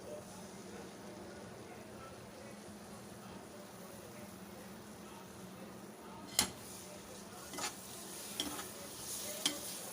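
Green chilies fry with yogurt and gram flour in a pan, a soft steady sizzle under a few sharp spoon scrapes and clinks near the end, with someone talking quietly.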